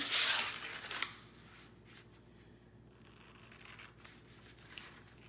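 A quick scissor snip opens the stretch, then softer cutting snicks and rustles follow at intervals as a transfer sheet is cut along a line in a quiet room.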